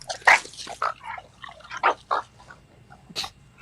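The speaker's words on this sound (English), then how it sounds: "Dogs are fighting." Dogs fighting off to one side, with scattered short barks, yips and growling bursts at moderate distance over a quiet background hum.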